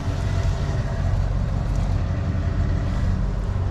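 A 1979 Ford Thunderbird, an original survivor with 81,000 miles, idles in cold weather while warming up, with a steady low engine rumble that stays even and unbroken throughout, no talking over it.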